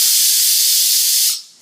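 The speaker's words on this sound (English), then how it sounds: "It's called a Eurosteam, and it's a small steam-generated iron. And you can actually leave it horizontal, but it puts out lots of steam." A small Eurosteam steam-generator iron lets out a strong, steady hiss of steam for over a second, loud and close, then cuts off abruptly and leaves near silence.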